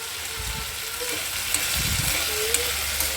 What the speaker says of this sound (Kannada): ಆಲೂಗೆಡ್ಡೆ ಸ್ವಲ್ಪ ಫ್ರೈ ಆಗಲಿ